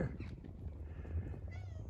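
A cat meows close by, a short plaintive call over a low, steady background rumble.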